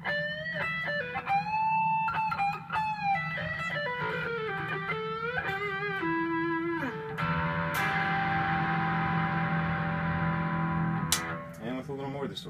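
A Godin Summit Classic Convertible electric guitar on its single coil pickup plays a bright, clean melodic phrase with bends and slides, then strums sustained ringing chords with a slight effect.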